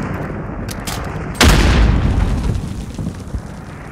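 A grenade goes off in Call of Duty: Modern Warfare, one sudden loud boom that rolls into a long, fading rumble over steady background battle noise.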